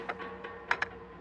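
Planting a bomb in Call of Duty Modern Warfare 2 sounds as a quick run of soft, close keypad taps, five or six light clicks in an uneven rhythm against a quiet background.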